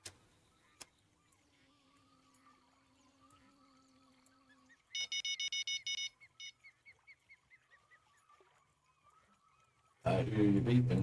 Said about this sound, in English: I hear you beeping.